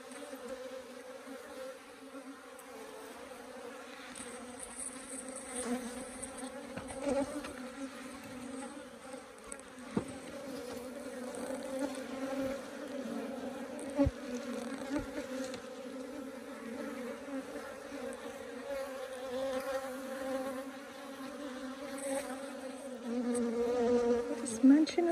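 Honeybees swarm around backyard beehives, their buzzing a dense, steady drone that grows slightly louder over time, with occasional close bees passing near and a few faint clicks.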